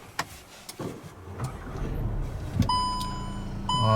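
A 2020 Volkswagen Tiguan Prestige started from inside the cabin: a few clicks, then the engine cranks and catches into a low steady idle, with warning chimes sounding over it.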